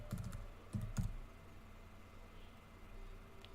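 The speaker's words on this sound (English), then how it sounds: "Typing was never my forte." A few quick bursts of computer keyboard typing, clustered near the start, then quiet background hum with a faint click at the end.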